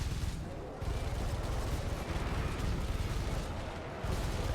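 Heavy bolter gunfire in a Warhammer 40,000 video game, a dense continuous roar of rapid booming shots that keeps on without a break and dips briefly only twice.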